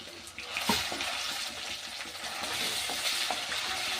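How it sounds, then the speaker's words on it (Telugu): Ginger garlic paste frying in oil, a quiet, steady sizzle close by with occasional light stirring scrapes and clicks, no clear speech. "2 స్పూన్లు అల్లం వెల్లుల్లి పేస్ట్ వేసుకొని అది బాగా డీప్ ఫ్రై చేయాలి."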